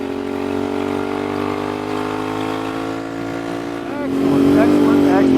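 A Royal Enfield Bear 650 twin with a shotgun high pipe exhaust drones steadily at cruising speed, then swells louder as the engine revs up, with wind noise and a voice over the ride.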